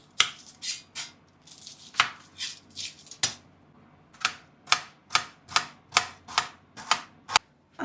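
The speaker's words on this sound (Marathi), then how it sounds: "तर सर्वात पहिलं आपल्याला कांदा बारीक चिरून घ्यायचा आहे." A knife finely chops onion on a cutting board, giving a run of sharp, crisp knocks that start loose and irregular and then settle into a steady rhythm. The chopping is close and clear, with no voices.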